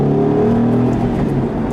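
A 2005 Ford Mustang GT V8 pulls hard in second gear from about 30 mph, its engine note rising in a loud, steady growl heard close up from inside the car.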